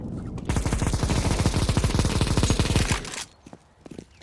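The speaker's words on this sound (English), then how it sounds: "I am throwing a grenade." Rapid automatic gunfire in a video game firefight, a dense burst of shots for about two and a half seconds, then a few scattered sharp reports and clicks; no distinct grenade blast stands out.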